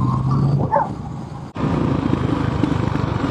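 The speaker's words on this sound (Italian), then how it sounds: "Attenzione, cani selvatici." Brief barks from wild dogs by a road in Sardinia, half buried under the steady, loud drone of a motorcycle engine while riding, with the engine noise dominating throughout.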